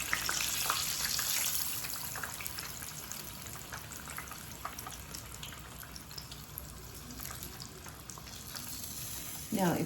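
Fish pieces for crispy Southern-style fried fish sizzle in oil in a pan, giving a steady, close hiss with scattered crackles and pops throughout, briefly louder at the start and end.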